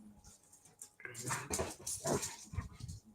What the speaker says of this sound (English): The dogs are romping.